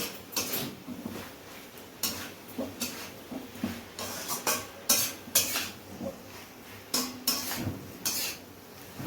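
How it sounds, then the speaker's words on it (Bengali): Fried pointed gourd being stirred and sautéed in a metal pan, with a spatula scraping in a steady series of short, clattering strokes roughly every half second, fairly close and without talk. "এবার ভাজা পটলগুলো এতে দিয়ে এবার আবার ভালো করে কষে নিতে হচ্ছে"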